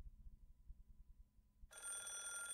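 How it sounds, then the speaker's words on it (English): A telephone rings in the Higurashi video game, a bright electronic bell trill that starts suddenly partway through and continues steadily after a low muffled rumble. "Oh, phone call."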